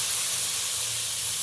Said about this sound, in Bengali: আলু ভাজার পরে কড়াইতে অল্প তেল রয়েছে, তাতেই আমি বেগুনগুলো ভেজে নেব।